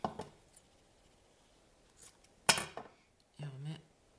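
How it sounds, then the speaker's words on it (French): Scissors snip through a folded paper envelope in a few short, separate cuts with quiet gaps between, close and crisp, followed by a brief rustle of paper. "On coupe."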